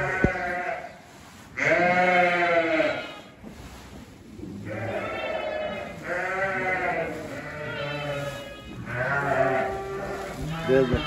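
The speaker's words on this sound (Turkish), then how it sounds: "Yeni doğan kuzular." Newborn lambs bleat in loud, drawn-out calls, several of them close by and coming in bursts separated by brief quieter gaps.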